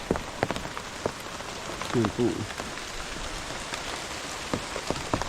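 Rain falling outdoors on a rural house and rice-field setting in the Philippines: a steady patter of drops on surfaces with scattered sharper drips nearby, and someone briefly speaking over it.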